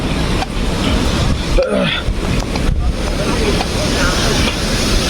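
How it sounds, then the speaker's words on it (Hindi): A powerful waterfall at Kedarnath seen from a bridge, a loud, constant rushing roar with wind buffeting the microphone and a voice speaking over it. "ये वाटरफॉल कितना तेज़ है, ये देखो, ये देखो।"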